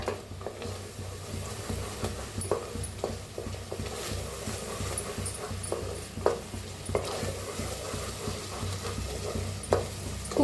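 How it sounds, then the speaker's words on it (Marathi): A ground curry leaf spice paste sizzles and crackles as it roasts in a hot pan while a spoon stirs and scrapes, with occasional soft clinks, fairly quiet and close. "कढीपत्ता वाटण बनवून घेतलेलं आता भाजून घेऊया"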